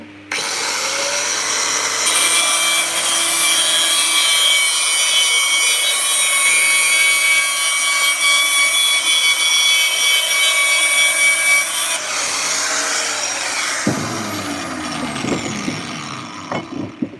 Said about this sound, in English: I'm just going to get that grinder out and give this a clean.